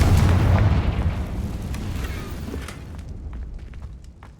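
A Confringo fire-blast spell in Hogwarts Legacy goes off as a loud, booming burst that rolls into a rumbling decay and fades over several seconds, with no one talking.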